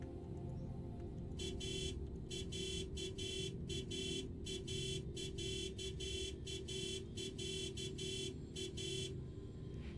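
The Merm Cicada mount in SWTOR sounds its horn in a rapid series of short, bright electronic beeps, about a dozen pulses in an uneven rhythm. The beeps are loud and close, with a constant low hum underneath and no talking.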